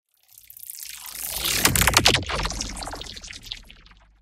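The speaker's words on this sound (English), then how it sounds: "This one's definitely more liquidy because it's doing the bandpass filter thing." Liquid-sounding processed effect made with a vocoder plugin and a bandpass filter, a swelling, bubbling pour-like texture that rises to a dense burst midway and then trails off, heard alone.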